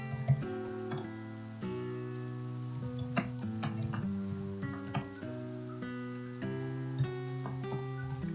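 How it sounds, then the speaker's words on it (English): Keys on a computer keyboard tap in irregular bursts of quiet, close clicks under soft background music, with no speech. "I can type here."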